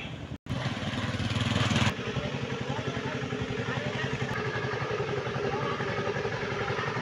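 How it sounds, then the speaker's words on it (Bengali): A big boat's engine drones steadily from across a river with a throbbing, chugging pulse, fairly loud and continuous after a brief dropout and a louder opening stretch. "একটি নৌকা যাইতেছে, বড় নৌকা"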